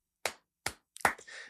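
Two sharp, separate hand claps followed by a quicker, softer cluster of claps, close and dry, keeping time for a simple children's action song.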